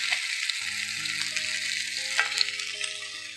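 Chicken wings frying in oil in a wok, a close, steady crackling sizzle with scattered sharp pops, running alone without talk while a faint tonal hum sits underneath.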